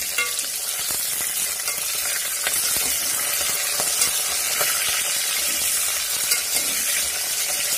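Spices sizzling and frying in a pan while being stirred, a steady close crackling hiss with scrape-like stir marks throughout, no voices.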